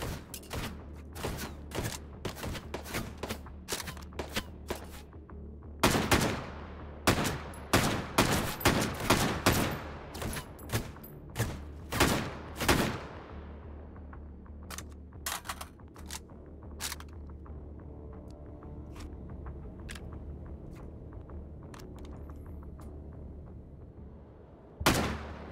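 Gunfire in the VR shooter Hot Dogs, Horseshoes & Hand Grenades comes as loud, sharp reports, singly and in rapid bursts, over about 25 seconds. The shots are dense early on and thin out to sparse single shots, with a final shot at the end.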